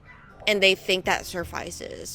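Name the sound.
dogs barking in backyards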